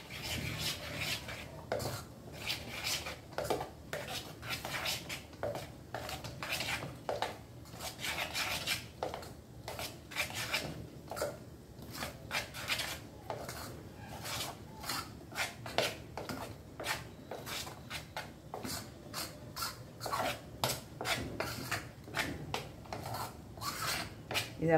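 Rice flour batter being mixed by hand in a vessel, a steady run of wet rubbing and scraping strokes lasting throughout, close and fairly quiet with no talking.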